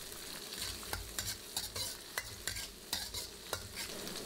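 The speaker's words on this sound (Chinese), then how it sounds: "用中小火炒香" Garlic, scallion pieces, dried chilies, Sichuan peppercorns and spices are stir-fried over medium-low heat for crayfish. A steady soft sizzle runs underneath regular spatula scrapes and taps against the wok, fairly faint with no voices.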